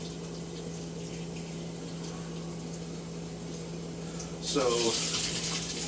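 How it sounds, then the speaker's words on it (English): Tap water runs steadily at low level while potatoes are washed in a kitchen sink, a hum underneath, then the flow swells louder and brighter near the end as water hits the potatoes; a voice speaks briefly. "washing the potatoes out, because even if it comes pre-washed, you always want to wash your potatoes out"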